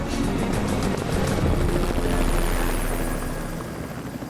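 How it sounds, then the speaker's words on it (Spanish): A search helicopter passing almost directly overhead above the Australian desert, its steady rotor chop loud and continuous throughout, swelling slightly at the midpoint and easing toward the end. "El helicóptero de búsqueda pasa volando casi por encima de ellos."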